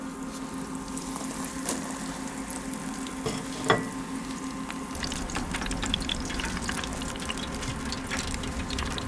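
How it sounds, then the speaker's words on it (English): Pulled pork coxinhas bubbling in hot oil at 180 °C, a steady close sizzle and crackle with scattered pops and a brief clatter partway through. "now we just have to deep fry the coxinhas"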